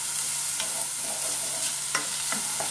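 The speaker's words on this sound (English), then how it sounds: "So this onion has been sizzling away for about a minute." An onion sizzles in a pan on a hob with a steady, fairly loud frying hiss and a few soft stirring clicks.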